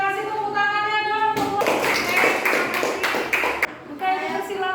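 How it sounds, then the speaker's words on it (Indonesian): A classroom group gives brisk applause for group C, clapping that lasts a couple of seconds, with a teacher's and students' voices just before and after. "Kasih tepuk tangannya dong."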